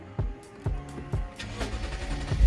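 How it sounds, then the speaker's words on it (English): A Lexus RC F engine cranking over on its first startup after an oil change, with several rhythmic starter pulses before the motor catches and begins to run, close and fairly loud. "first startup after changing the oil"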